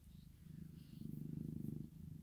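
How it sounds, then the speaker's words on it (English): A pet cat purrs close up in a soft, rhythmic rumble that swells louder midway, with no talking over it. "She's a very good cat."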